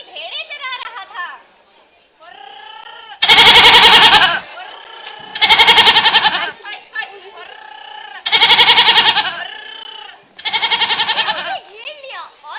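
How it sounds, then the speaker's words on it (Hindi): Bleats from a flock of sheep grazing outdoors with a shepherd, four loud bursts in a row, separated by quieter voices talking in the pauses. "वहाँ एक चरवाहा अपनी भेड़ें चरा रहा था।"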